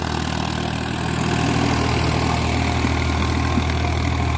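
A new Farmtrac 60 Powermaxx tractor engine runs steadily close by, a continuous deep diesel drone with a faint rise in loudness early on and no talk.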